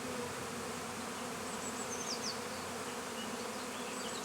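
Honeybees buzz steadily at a beehive during the merging of two colonies, a soft continuous drone with a few brief higher whines of bees flying past, no voices.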